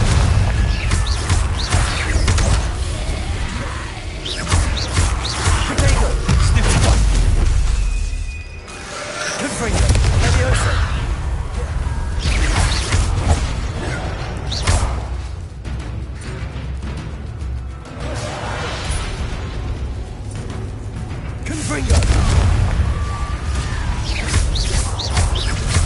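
Fiery Confringo explosive spell blasts go off during combat in Hogwarts Legacy. Loud, dense booms and crackling bursts run almost without pause, with a brief dip midway before the din resumes.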